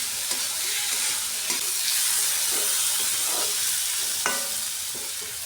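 Fried fish pieces stirred into sizzling spices in a pan, with steady frying hiss and repeated scraping stir strokes close by, no talk.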